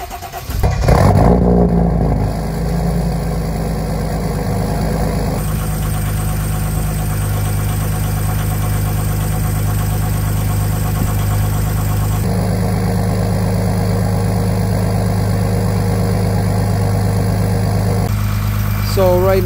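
A Jeep Commander fitted with a swapped-in Mercedes OM642 diesel engine starts up and settles into a steady high idle, a loud continuous drone with a constant low hum and little variation.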